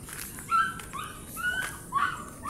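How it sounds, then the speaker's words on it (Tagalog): Dogs whimper and yip in a countryside setting, a few high, whining cries in quick succession over a soft rustling background, fairly close and with no one talking. "Kasama ko pala yung dalawang aso at saka meron din dito yung mga aso"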